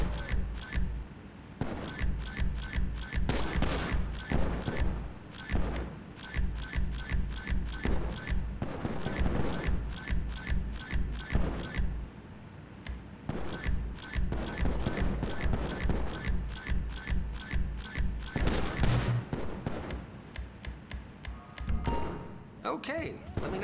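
Gunfire rings out at a shooting range in Grand Theft Auto V, with rapid volleys of sharp shots in repeated bursts broken by short pauses, while a voice talks underneath.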